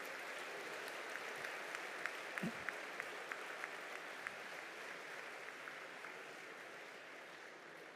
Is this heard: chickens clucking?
no